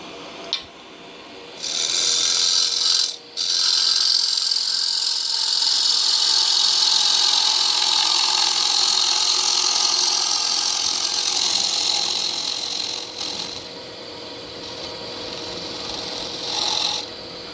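A small koa wood calabash being cut on a turning setup gives off a long, steady, loud rasping whine. It runs for most of the stretch, broken by a brief pause near the start, with no talk.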